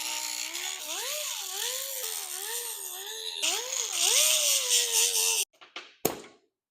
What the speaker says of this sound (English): I just want to grind all the burrs off around the side